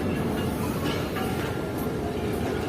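A Sukkur Express train pulls out of Jacobabad station in Pakistan on an overnight run, giving a loud, steady, close rumble that continues unbroken with no voices.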